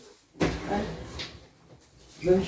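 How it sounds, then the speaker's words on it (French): A door is opened at home, with a soft thump and the brush of the door swinging, followed by quieter rustling and another knock near the end. "Je lui ouvre la porte."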